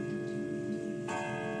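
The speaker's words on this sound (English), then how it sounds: "you hear an old grandfather clock begin ringing" An old grandfather clock rings with sustained, resonant tones over a steady hum, and a fresh chime strike comes in near the end.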